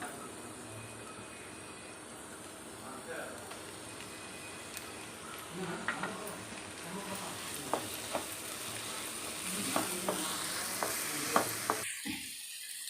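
Chopped tomatoes sizzle quietly in a hot pan for a spinach dish, and a spoon scrapes now and then as the mixture is stirred.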